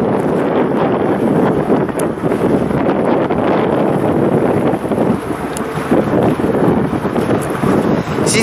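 Strong wind buffets the microphone in a steady, loud roar on a boat at night in Amsterdam, with low rumbling gusts throughout and no voices.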